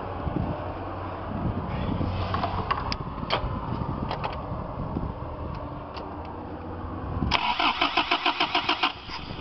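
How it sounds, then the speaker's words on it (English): A car with a no-start fault, its fuel supply to the carburetor being checked, cranks loudly up close, the starter churning in a fast steady rhythm near the end with no talking. "So we are going to crank the car."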